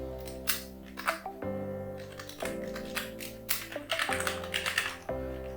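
Quick, irregular keystrokes on a computer keyboard while an email address is entered into a sign-up form, clicking close and fairly quiet over a steady low background hum.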